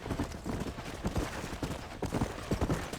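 Horse hooves clip-clopping at a steady trot in the Red Dead Redemption video game, a fairly loud, continuous run of close hoofbeats with no talk.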